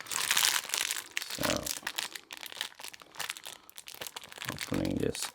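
Loud, close plastic crinkling and rustling fills the clip, with a voice speaking briefly between the bursts of handling.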